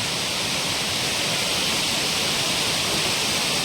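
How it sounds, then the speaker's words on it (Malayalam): A small waterfall at Aruvikkal near Pala tumbles over plenty of rock, making a steady, loud, close rushing roar that runs continuously with no pauses. "ചെറിയൊരു വെള്ളച്ചാട്ടം"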